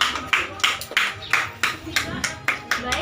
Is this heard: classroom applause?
yes